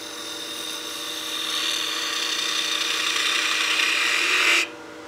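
A wood lathe spins a small baby rattle as a tool cuts it, a steady whirring hum with a thin rising whine that holds for several seconds and then cuts off abruptly, without speech.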